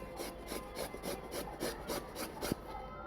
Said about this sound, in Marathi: हे असं किसून घ्यायचं सर्व आता इथे मी सर्व आधी किसून घेणार आहे